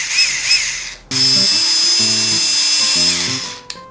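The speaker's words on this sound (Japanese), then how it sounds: "まずはこのキャップの蓋に穴を開けてチューブを通します。 持ってる人は電動ドリル" An electric drill whirs in short bursts as it bores a hole through a plastic bottle cap, with a high steady whine and brief pauses between pushes, close up and loud.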